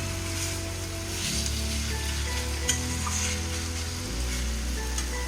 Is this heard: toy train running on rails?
no